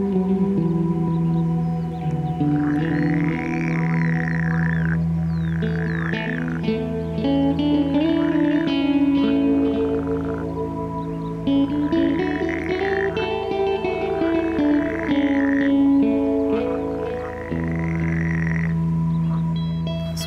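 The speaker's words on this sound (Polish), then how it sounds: "w oddali słychać żaby" A chorus of frogs croaks continuously, warbling calls overlapping in a layered, pulsing drone that fills the whole stretch without any talking.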